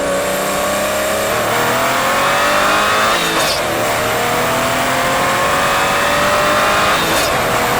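Tuned BMW 340i with the B58 engine and manual gearbox, Stage 2+ tune with rolling anti-lag, accelerating hard: a loud, sustained rising engine roar heard from inside the car, with two quick breaks in the pull as it shifts gears.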